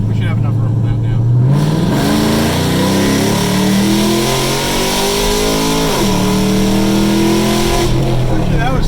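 Cammed car engine on a dyno revving hard through gear shifts, rising in pitch, dropping at a shift and climbing again, loud and close.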